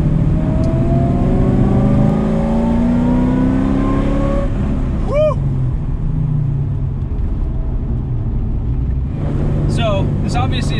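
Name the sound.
LS V8-swapped Mazda RX-7 accelerating on the road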